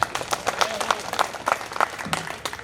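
Dense clapping from the crowd at a kavi sammelan, a Hindi poetry recital, steady and fairly close for a few seconds, with scattered voices mixed in.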